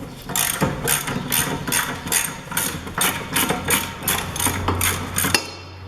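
A ratchet clicks rapidly and rhythmically in repeated bursts, loosening a bolt on the front wheel bearing assembly of a Mercedes B180 W245, close and loud, stopping abruptly at the end.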